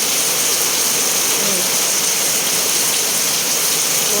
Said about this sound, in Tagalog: Kita nyo ang lakas ng ulan.